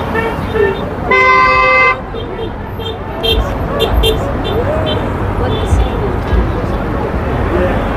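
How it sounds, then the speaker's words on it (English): A car horn blares for about a second amid road traffic passing a protest at a Tesla dealership, with shorter, fainter honks and voices around it. "They're getting a lot of honks."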